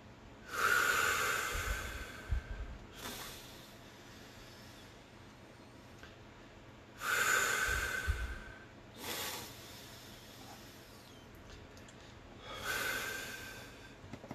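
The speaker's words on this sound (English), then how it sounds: "we're going to take 3 deep breaths" Three slow, deep breaths drawn in and let out, each a broad airy rush with a snort-like edge, spaced a few seconds apart with quiet pauses between.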